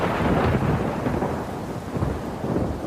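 Thunder rumbles with heavy rain in a stormy horror story scene, a steady loud wash of rainfall with deep rolling thunder surging through it, no voices.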